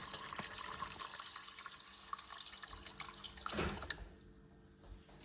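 Water pours into a pot of washed rice being readied for cooking, a soft continuous splashing and trickling that swells briefly near the end, then drips away, quiet and close.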